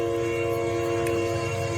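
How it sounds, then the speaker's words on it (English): A train passing nearby sounds a loud, sustained horn over a steady low rumble of rolling wheels and cars, holding continuously through the whole stretch with no talking. "Sorry for the train."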